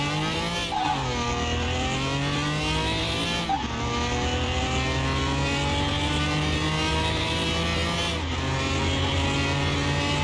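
A Dodge Challenger SRT Hellcat engine in Car Mechanic Simulator 2021 roars loudly and continuously, its pitch sweeping up through the gears with three clear shifts, each followed by a drop and a renewed climb.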